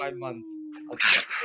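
A single sharp, breathy sneeze bursts out loudly right after a voice during an indoor podcast-style conversation, followed by a short tail of breath and movement.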